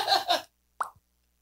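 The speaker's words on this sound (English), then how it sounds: "The merch thing makes a pop noise." Pop notification sound effect for merch, a single short plop heard alone after a brief burst of talk, then silence.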